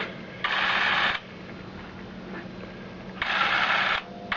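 A Super 8 cine camera motor whirs in two short bursts, close and fairly quiet, with a soft hum and rustle in the pauses.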